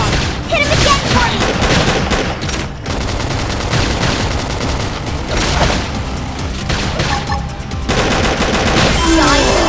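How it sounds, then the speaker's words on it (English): Dense, continuous combat barrage of rapid gunfire-like bursts and booms from thermal flame grenade and assault hammer attacks in Xenoblade Chronicles X, loud and unbroken throughout, with a faint voice now and then. "Thermal flame grenade!"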